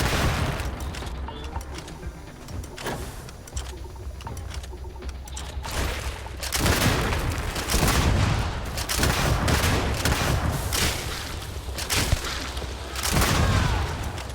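Grenade launcher rounds firing in the Starfield video game, a run of loud blasts and booms coming one after another, with tonal bird-like sounds and game ambience around them.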